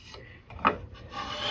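A Patsy rabbet plane rasps briefly across wood while cutting a rabbet and raising shavings, giving a short, close scraping stroke.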